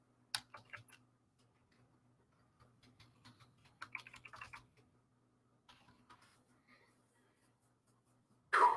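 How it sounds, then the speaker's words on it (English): Quiet, near clicks of computer keyboard typing come in short irregular bursts separated by pauses, over a faint steady hum, with a louder clunk at the end. "I'm typing a message real quick here."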